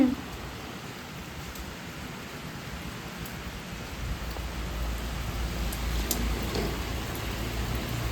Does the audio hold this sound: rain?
yes